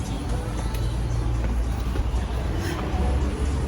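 Free hotel airport shuttle bus in Miami driving along, a loud steady low engine and road rumble throughout with faint rattles and cabin noise.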